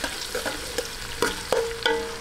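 Sliced onions sauté in a pan, cooking toward light brown, with a steady sizzle under repeated clinks and scrapes of a stirring utensil, close and fairly loud.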